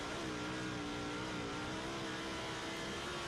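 A sprint car engine screams at steady high revs as it runs hard around a racing track, a dense, sustained mechanical whine with no pauses, loud and close throughout.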